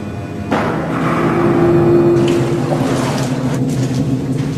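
A decades-old emergency generator engine in a cellar, the same model that powered the Führer bunker, runs with a loud steady rumbling drone and a humming tone, rising slightly as it settles into a constant roar.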